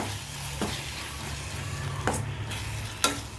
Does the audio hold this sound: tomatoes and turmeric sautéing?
yes